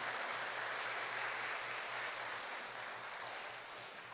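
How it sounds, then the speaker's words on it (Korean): Faint applause during Sunday Mass for three students finishing their studies, steady light clapping from a congregation that tapers slightly toward the end. "박수 한번 쳐줄까요?"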